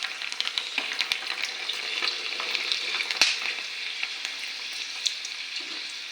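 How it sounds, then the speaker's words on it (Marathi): Papad frying in hot oil gives a steady, bright sizzle with scattered crackles and pops, close and continuous, with no talk over it. "आणि हे तेल गरम झाले, त्याच्यामध्ये असे पापड तळून घ्यायचे."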